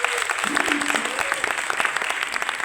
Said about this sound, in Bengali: স্পন্দনের শিশু শিল্পীদের জন্য একটি জোরে করতালি হবে।